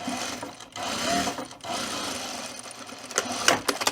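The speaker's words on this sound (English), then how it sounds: "the first pass I'm going to sew is 1/4 inch" A sewing machine runs steadily through fabric on a first-pass quarter-inch seam for a split tool belt, a close, continuous mechanical whir with slight dips, ending in a few brief clicks and knocks.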